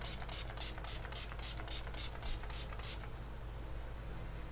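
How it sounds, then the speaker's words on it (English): A rapid series of short spray bursts, about a dozen quick pumps of a makeup setting spray mister in close succession, followed by quiet rustling. "I also want to go in with the Buxom Wanderlust to spray my Slay All Day setting spray"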